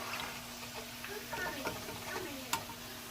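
Buffalo wings frying in oil, a faint sizzle and crackle with soft scattered pops and one sharper tick near the end, no voices.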